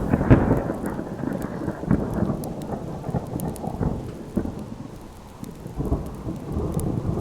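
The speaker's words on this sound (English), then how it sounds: "It sure rains a lot." Thunder rumbles over steady heavy rain in the video game Subsistence, a dense continuous downpour with deep rolling thunder swells, loud and close throughout, no talking.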